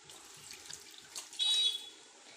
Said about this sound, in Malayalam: അതിലേക്ക് ഒരു അര ഗ്ലാസ് വെള്ളം ഒഴിക്കുകയാണ് കേട്ടോ